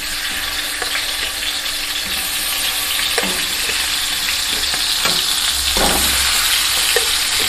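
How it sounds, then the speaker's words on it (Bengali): Bata fish pieces frying in hot oil make a loud, constant sizzle and crackle, close up, with occasional soft scrapes and clinks of stirring and no voices. "এক এক করে আমি মাছগুলি একটু হালকা করে লাল করে ভেজে নিই"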